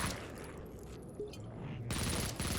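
Submachine gun fire in the first-person shooter Project Warlock, a dense, continuous burst of rapid shots that starts loud, thins out briefly, then surges again near the end.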